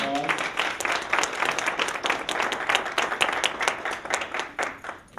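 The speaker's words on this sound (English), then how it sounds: "Let's give them a round of applause." An audience applauding trustees at a college ribbon-cutting ceremony, with steady dense clapping through the whole stretch, fairly near and with no speech over it.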